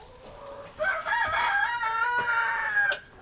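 Rooster crowing among chickens, a drawn-out cock-a-doodle-doo rising over soft clucking and barnyard background, fairly close and loud.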